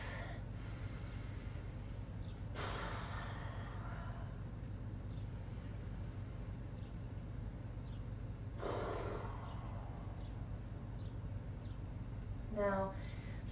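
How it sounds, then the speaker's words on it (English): Deep belly breaths during a yoga session, two broad breathy swells of inhale and exhale standing out over a steady low background hum, with a brief short snort-like puff near the end. "Take 2 or 3 big belly breaths."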